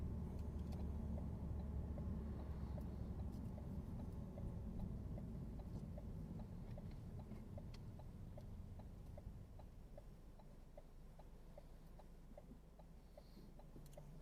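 Car interior during a driving lesson at a roundabout while the learner changes gear, a low steady engine rumble with a faint regular ticking like an indicator running throughout, quiet and without talk.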